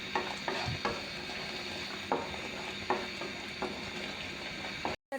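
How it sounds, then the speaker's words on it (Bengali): Spices for egg korma are stirred and sautéed in a pan with salt, producing a continuous sizzle punctuated by repeated scraping strokes of a spatula, close and moderately loud. "এটা খুব ভালো করে কষাতে হবে।"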